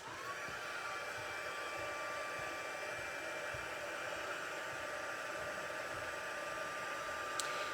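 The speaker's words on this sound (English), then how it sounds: "So we're going to heat that up and melt that embossing powder." A heat tool blows steadily at close range as it melts embossing powder on a stamped greeting card, giving a continuous even whine and rush of air with no pauses.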